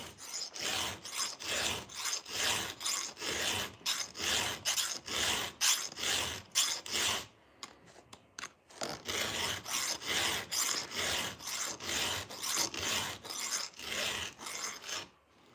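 A chainsaw chain being sharpened on a new electric sharpener in a garage gives a rapid series of short, harsh grinding rasps, one per tooth, in an even rhythm, briefly pausing midway before the bursts resume, close and alone.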